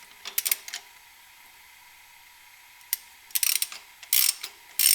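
A ratchet fitted with a 1/4 inch socket on the crank pulley of a 3800 3.8 engine clicks in short bursts, a few quick pawl clicks early, a pause, then several louder ratcheting runs close by.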